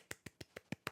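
Six sharp hand claps in a steady, evenly spaced rhythm, close and fairly quiet, with nothing else heard between them.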